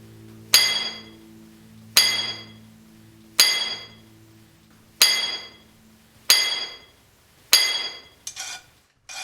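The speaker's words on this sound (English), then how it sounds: "He is drilling a series of 3-foot deep holes into the ore." A hammer strikes a hand-held, chisel-edged steel drill as a miner bores holes into ore, sharp metallic clinks falling at a steady pace of roughly one every 1.5 seconds, each ringing briefly before fading.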